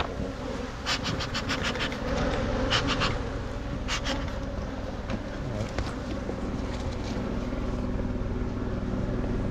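Honey bees in a hive being built up for almond pollination hum loudly as the box is opened, a dense steady buzz with individual bees flying close by the microphone.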